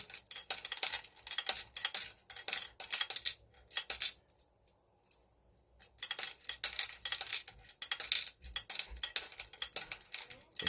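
1964 nickels clink and jingle in bursts as they are loaded into a coin bank, shuffling and rattling against each other with brief quiet gaps between clusters.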